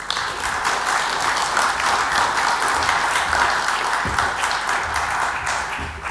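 An audience applauds steadily as a symposium speaker is welcomed on stage, a dense, even wash of clapping held at constant loudness throughout with no voices.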